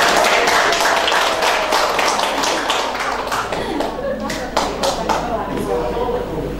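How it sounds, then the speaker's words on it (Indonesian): An audience applauds at a 2020 BWA level 4 graduation ceremony in Jakarta after the tassels are moved: steady, lively clapping throughout, with individual claps standing out and voices mixed in underneath. "semua meriah ya tepuk tangannya"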